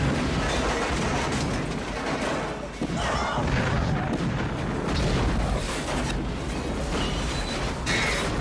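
A massive, rumbling movie explosion from The Long Kiss Goodnight (1996) roars on continuously with deep booms and crackling debris, loud and dense throughout, with faint voices underneath.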